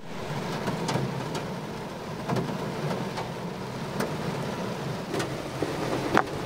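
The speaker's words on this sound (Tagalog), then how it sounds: "naabutan ako ng ulan" Steady rain hiss fills the air, with scattered sharper drips and taps against surfaces, continuous and moderately loud, no voices.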